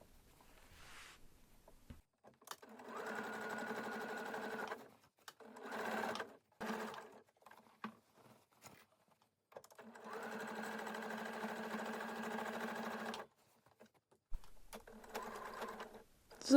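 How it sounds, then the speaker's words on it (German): A sewing machine stitches fabric along the curve of a bag and across a strap, running in several bursts of steady whirring separated by quiet pauses, with brief speech in between. "Abstand der Rundung entlang nähen, bis oben 1 cm Stoff noch stehen bleibt, Nadel im Stoff stecken lassen und wenden und über den Gurt hinweg nähen"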